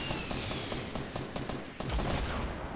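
Rapid gunfire from a pistol crackles in a video game, a dense burst of repeated shots close and loud over game background noise, lasting a few seconds.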